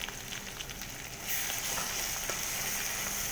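Green chillies fry in reused cooking oil, a steady close hiss that swells louder after about a second as they hit the oil.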